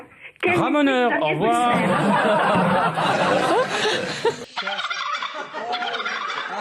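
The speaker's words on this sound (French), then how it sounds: "C'est le dindon." A turkey gobbles in a rapid burst, followed by a noisy stretch with voices and laughter-like sounds.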